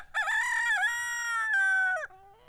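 A rooster in a homestead chicken yard gives one loud, close crow lasting about two seconds, strained and wavering before it drops off at the end.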